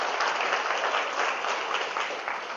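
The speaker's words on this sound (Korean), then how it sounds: "이 대목에서 박수를 한번 주시죠" Sustained applause from a seminar audience at a business lecture, dense and steady throughout, tapering slightly toward the end with no talk over it.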